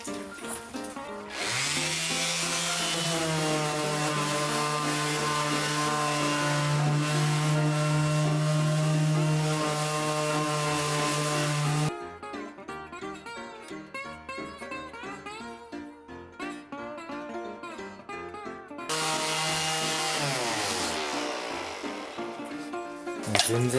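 A power sander with coarse 60-grit paper smooths a rough one-piece wooden slab tabletop, giving a loud, steady motor whine with a grinding hiss. It runs in two long stretches separated by a short quieter break.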